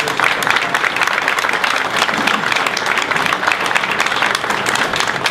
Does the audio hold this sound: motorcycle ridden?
no